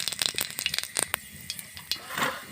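Five whole spices fry in hot oil in a wok for Bengali tempering, giving off a brief burst of sharp, irregular crackles and pops over a faint hiss.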